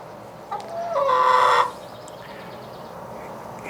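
An injured rooster gives a loud, harsh squawking cluck for about a second, close by, then only quiet background remains.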